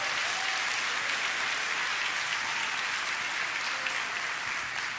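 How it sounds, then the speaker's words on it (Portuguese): Congregation in a church breaking into sustained applause, a dense continuous wash of many hands clapping at steady loudness throughout, heard from within the crowd. "Pôs uma salva de palmas ao Senhor."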